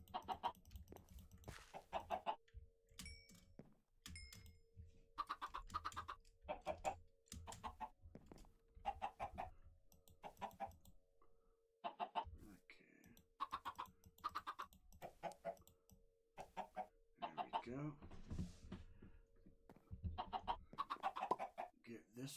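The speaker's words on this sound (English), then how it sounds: "hey, chickens." Chickens clucking in the Minecraft video game, short scattered clucks at a modest level, mixed with clicking sounds and someone talking.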